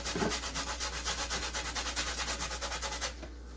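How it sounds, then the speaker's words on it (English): A lime zested on a grater for street tacos, heard as a rapid run of close, rhythmic rasping scrapes that stops near the end. "So we're going to go ahead and zest this."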